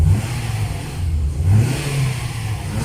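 A 2010 Toyota Vios engine that had been cranking without starting now runs, a steady loud mid-pitched hum with slight rising and falling revs, close by and with no voices.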